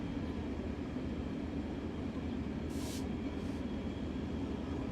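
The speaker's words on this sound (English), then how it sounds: "I know there is gonna be a train coming through the area" A train rumbling through the area, a steady low heavy drone that holds for the whole stretch, with a brief airy hiss rising partway through.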